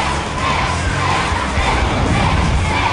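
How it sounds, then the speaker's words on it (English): Crowd at a Robot Wars featherweight battle arena cheering and shouting, a dense loud roar of many voices sustained throughout. "The crowd love it, the team doesn't."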